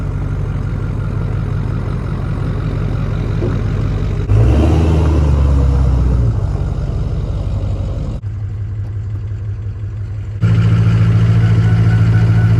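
A Ford 6.0L Power Stroke diesel truck fitted with a loud aftermarket turbo idles steadily up close, its deep rumble shifting in tone as it runs, with no talking.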